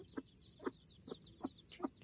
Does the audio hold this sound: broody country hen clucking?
yes